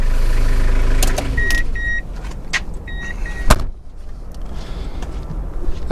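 A 2000 Toyota Hiace 3.0L turbo diesel camper van idles with a low rumble, then the engine cuts off about a second in, followed by quieter cabin clicks, a few electronic beeps and a thud, heard close up.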